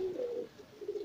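Soft, close cooing from a Gresik pigeon, a low repeated murmur of two or three rolling coos over about a second, alone with no talk.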